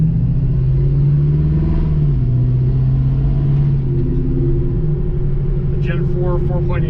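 A 1972 Chevy C10 pickup with a Gen 4 4.8 liter V8 and automatic six-speed, rumbling loudly and steadily through a custom dual exhaust while driving, with someone talking over the low engine drone.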